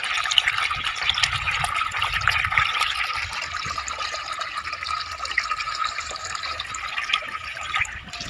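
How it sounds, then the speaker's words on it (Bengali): Water poured onto a village vegetable garden of cauliflower and cabbage, a continuous splashing, trickling flow at moderate level, close by and steady throughout. "এখানে বাগানে জল দেওয়া হচ্ছে"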